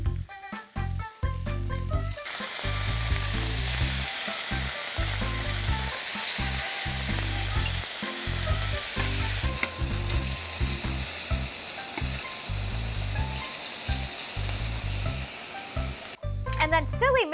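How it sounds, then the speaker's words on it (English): Shrimp sizzle loudly while frying in a pan for lemon shrimp, a steady close hiss with frequent stirring clatter and scraping throughout. "There be some sizzle there."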